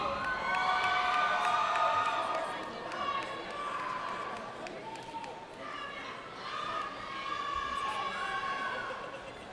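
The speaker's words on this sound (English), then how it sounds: "You can cheer now" A commencement ceremony crowd cheers and whoops in waves, with shouts rising and falling across the hall and a voice speaking over the noise.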